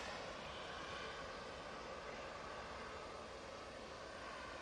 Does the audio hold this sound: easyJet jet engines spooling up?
yes